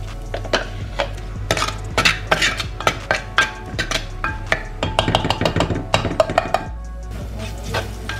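Amla (Indian gooseberry) cooking in homemade ghee in a pan, stirred with a metal utensil that sets off quick, close, bright clinks and scrapes in uneven bursts over a low background hum.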